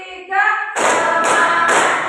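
Following a short spoken prompt, a group of classroom students performs three loud, evenly spaced unison claps as part of an ice-breaking clap routine.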